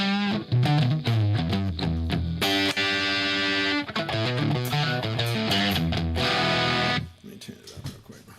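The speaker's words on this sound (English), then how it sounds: "it's got that vintage Marshall sound" An electric guitar plays through a vintage Marshall 50-watt amp, giving a loud, overdriven tone. Chords and single notes ring out and sustain continuously for several seconds, then cut off near the end.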